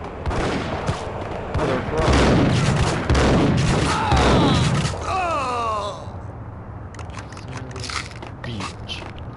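Rapid bursts of gunfire from the Max Payne shooter game rattle loudly for about six seconds, mixed with excited talking, then thin out to scattered softer shots under continued speech.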